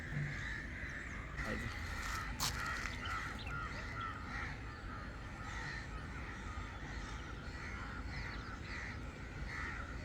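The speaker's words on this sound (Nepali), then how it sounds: "चरै चरा छ क्या यता" Crows cawing outdoors in a nature spot, several harsh caws repeating at a moderate distance over a steady background hum, with no talking.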